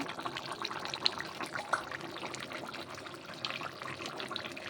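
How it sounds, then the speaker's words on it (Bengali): Sol fish curry with taro in a pot, the broth bubbling at a steady simmer with a continuous soft liquid hiss and scattered small pops, close by and fairly quiet, with no one talking. "দেখুন কত সুন্দর ঝোল ফুটে গেছে, আর তরকারি কালারও এসে গেছে।"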